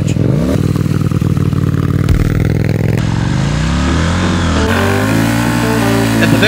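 A motorcycle engine revs hard and continuously during drift practice, loud and close, its pitch rising and falling as the throttle is worked, with tyre scrape and a voice faintly underneath.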